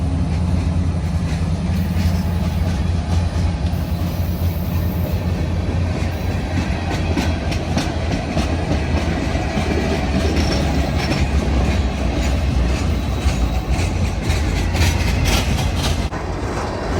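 CN freight train of rail cars rolling past at close range on the Coteau, Quebec mainline, with steady loud rumble and wheel clatter over the rails throughout, no voices.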